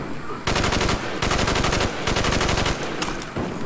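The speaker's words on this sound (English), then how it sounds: "What's he shooting at?" Rapid automatic gunfire rattles loudly through Call of Duty: Black Ops, in long sustained bursts broken by brief pauses, close and dominant.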